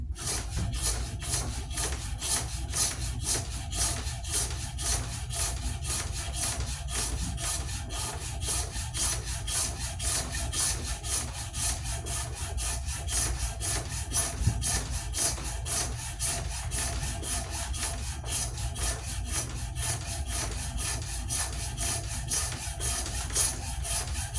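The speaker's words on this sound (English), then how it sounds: "when you got that divot in there, you can always go back to your rasp" A rasp files steadily across wood, a rapid, even rhythm of rough scraping strokes repeating closely and continuously throughout.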